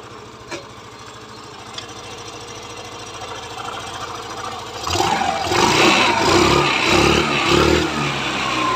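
A Hero Duet scooter runs after a full engine rebuild with new crank, piston and timing chain work. It idles quietly and evenly at first, then revs up into a louder, rougher engine drone, alone and close.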